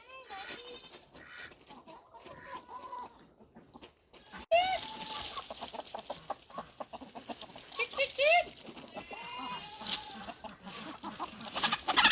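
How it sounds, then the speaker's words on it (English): Chickens cluck and squawk in a busy farmyard, with other animal calls mixed in and some soft talking. "Let's feed the chickens."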